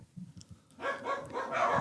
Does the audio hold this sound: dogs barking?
yes